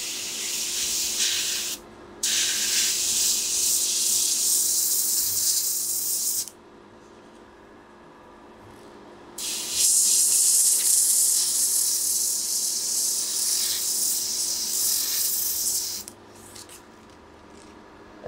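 Airbrush hissing paint through a stencil mat in a carbon fiber effect job, steady close spray bursts of several seconds each with brief pauses between, louder in the second half, no talking.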